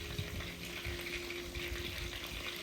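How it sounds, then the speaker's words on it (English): Battered tempura pieces fry in hot oil, giving a steady, close sizzle with fine crackling and faint stirring, alone without any talk. "You just fry it. Everything tastes good fried."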